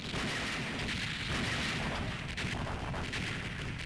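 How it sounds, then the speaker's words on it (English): Explosive blasts and gunfire from the arcade run-and-gun video game Shock Troopers, as a player uses up grenades; a dense, continuous barrage of booms and shots with no pauses and no voices. "I might as well use up all my grenades, because 20 grenades, that is a lot of grenades"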